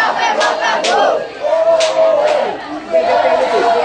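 Corinthians youth football supporters in a stadium chanting together, a loud sustained crowd chant with rising and falling sung tones and scattered shouts, filling the whole stretch.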